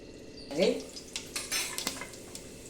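Mustard seeds hit hot oil in a pan with a sudden sizzle and crackle, followed by scattered metallic clinks and scrapes of a utensil against the pan. The sounds are close and moderately quiet, with no talking.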